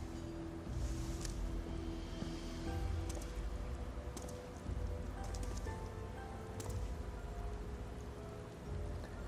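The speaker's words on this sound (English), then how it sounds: "It's supposed to be raining." Steady rain falls during a cutscene in the game Final Fantasy XIV, a soft continuous patter of drops with a low rumble beneath, heard alone without voices.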